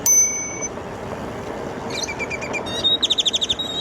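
A bicycle bell rings on a Lectric XP4 750W e-bike riding through a park in Tempe, Arizona: a single ding, then a quick run of bright trills, close and clear over soft riding noise.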